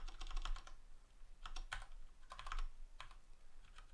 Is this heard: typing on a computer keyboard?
yes